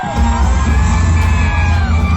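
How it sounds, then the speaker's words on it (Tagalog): A large rally crowd greets Vice President Sara Duterte with loud, sustained cheering, whoops and yells, a dense continuous roar with no distinct speech. "natin ng mainit na palakpak at sigawan! Vice President Sara Duterte!"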